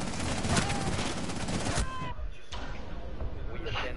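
Automatic gunfire in Rainbow Six Siege, a dense rapid burst for about two seconds followed by a few scattered shots and thuds, under a player's voice.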